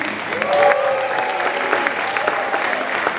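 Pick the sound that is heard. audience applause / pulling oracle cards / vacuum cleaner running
audience applause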